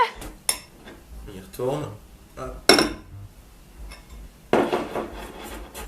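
Flour being stirred into dough in a bowl, heard as clinks and scrapes of utensil against the dish, several short bursts spread across the moment, close by, with a person speaking briefly between them.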